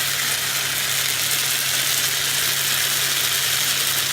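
Coral tuile batter of flour, water and oil sizzling steadily in a hot oiled pan, a close, even frying hiss with no voices.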